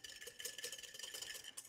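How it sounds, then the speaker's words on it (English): A whisk stirs a salted mixture in a bowl in a quick, steady rhythm of soft scraping and light clinking, faint and close, with no speech. "Let's get our whisk and just give it a nice little whisk around there."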